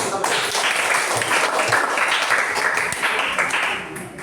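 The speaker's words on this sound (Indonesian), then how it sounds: "Kita berikan tepuk tangan" Classroom applause for a student at a junior high school, a moderate round of clapping with faint voices mixed in, tapering off near the end.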